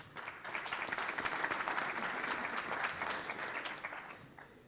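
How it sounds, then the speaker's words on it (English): A crowd claps steadily for several seconds at a college diploma graduation ceremony, dense and even, then thins out toward the end. "We must give them a round of applause."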